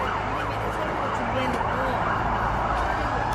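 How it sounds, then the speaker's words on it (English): Emergency sirens wail along a busy street in Seoul's Gangnam area, a steady mid-distance siren tone sitting over dense traffic and city rumble, with no talk during the sound. "Oh, you hear the fire sirens?"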